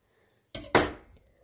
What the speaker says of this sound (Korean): 배숙채로 먹을 땐 한 입 크기로 자릅니다.